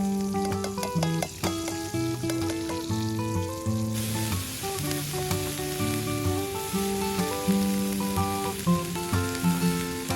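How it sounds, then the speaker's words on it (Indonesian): Fern vegetables cook over a wood fire at a beach campsite, a steady crackling sizzle running beneath loud, continuous music throughout. "Setelah itu langsung sayuran pakisnya mulai kami masak"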